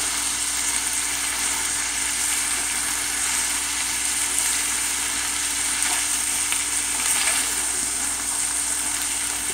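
Corned beef and ham hash fries in a pan while being stirred, a continuous loud sizzle and crackle with steady background hum and no pauses throughout.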